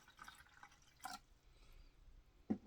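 Cold tap water poured into an electric hot pot, heard as faint splashes and drips with a few sharper clinks against the pot, quiet and sparse.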